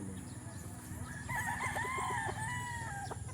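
A rooster crows nearby, a long wavering call rising over a low background murmur and a few clucks.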